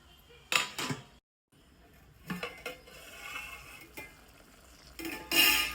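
Mutton being stirred in a cooking pot with a metal spoon, a few scraping clanks and clinks with short pauses, close up and moderately loud, no talking.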